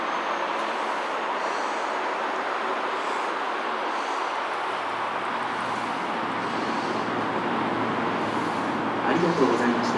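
Electric train departing from platform 1 at a Japanese station, a steady broad rumble and rolling noise that holds evenly throughout, fairly loud and close, with no clear voices over it.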